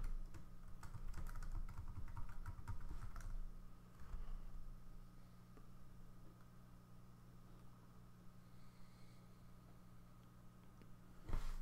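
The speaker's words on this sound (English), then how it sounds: "I typed something incorrectly, apparently." Keys clatter in a quick, close burst on a computer keyboard while credentials are entered during a Windows Server 2012 R2 Server Core setup, then the typing stops, leaving a quiet hum and one last faint tap.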